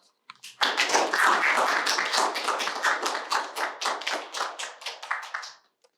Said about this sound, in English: Please join me in a warm welcome and round of applause for Stephanie Pesheau.